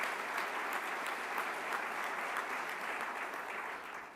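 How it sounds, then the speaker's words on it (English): Conference audience applauding mayors at an annual meeting's opening plenary session in San Francisco, a dense, steady wash of many hands clapping throughout, tapering slightly at the end. "Can we give those mayors a round of applause for the great work they're doing?"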